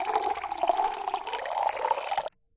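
A recording of flowing water plays back in Audacity as a steady splashing, bubbling wash for about two seconds, then cuts off abruptly into silence.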